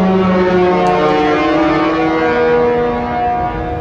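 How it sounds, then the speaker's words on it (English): A loud, deep cruise ship horn blasts continuously for several seconds at departure, a rich sustained tone that tapers slightly at the end. "with that horn blast, we are officially off to Bermuda"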